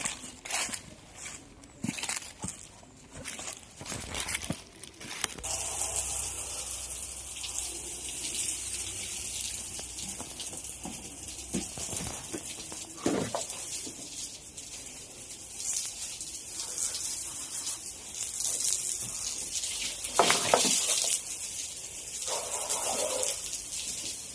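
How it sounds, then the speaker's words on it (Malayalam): Water poured and splashed across a cow shed floor while it is scrubbed, a steady close rush and spatter with intermittent scraping and brushing strokes. "ഇനി തൊഴുത്തിനകം എല്ലാം നന്നായിട്ട് വെള്ളം ഒഴിച്ച് അടിച്ച് കഴുകി വരണം"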